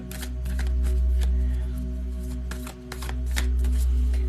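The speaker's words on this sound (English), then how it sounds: "This deck is hard to shuffle." Close, repeated riffling bursts of a stiff tarot card deck being shuffled, with a short pause midway over a low steady hum.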